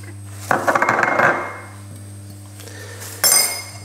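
Butter is dropped into a pan holding 150 ml of water for choux pastry, giving a sudden clattering splash that settles into a soft wash, with a second brief clink near the end.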